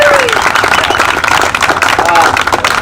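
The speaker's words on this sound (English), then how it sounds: "Let's give these guys a big round of" Loud crowd applause at an evening classic car club meeting before a cruise, steady dense clapping throughout, with a few voices calling out over it.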